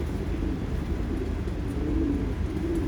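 Pigeons in an enclosed plywood pigeon loft make a steady low, throaty cooing drone, fairly loud and continuous, with no talking over it.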